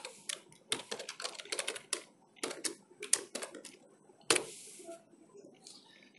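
Keystrokes on a computer keyboard while Java code is typed, coming as quick irregular bursts of clicky taps with short pauses, close and fairly quiet, ending in a louder cluster near the end.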